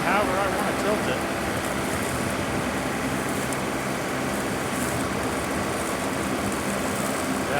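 A Hardee Brush Tiger mower's engine runs close by near a pond with a dense, constant, loud roar that holds steady from start to finish.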